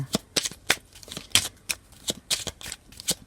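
Celtic Lenormand cards being shuffled and drawn by hand: a run of quick, crisp riffling and flicking bursts, close and fairly loud, with no voice over them.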